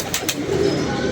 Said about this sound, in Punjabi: ਮੇਰੇ ਕਬੂਤਰ ਉੱਤੇ ਭੱਜੇ ਫਿਰ ਰਹੇ